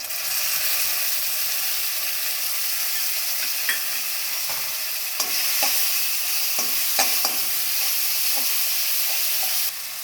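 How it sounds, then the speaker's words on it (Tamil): Onions sizzle steadily in a hot pan while a utensil occasionally scrapes and stirs through them. "வெங்காயம் நல்லா குக் ஆகணும் நல்லா ஒரு ப்ரௌன் கலரில் வரணும் அது வரைக்கும் நல்லா வதக்கிக்கோங்க"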